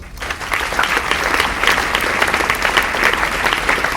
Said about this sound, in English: So a round of applause for Paul Frank